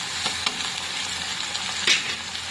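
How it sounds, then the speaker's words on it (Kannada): Onions and masala spices fry in a pan for a quick brain fry recipe, giving a steady, close sizzling hiss broken by a few faint stirring clicks. "ಮಸಾಲೆ ಕೂಡ ಫ್ರೈ ಆಗಲಿ."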